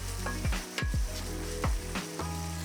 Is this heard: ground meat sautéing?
yes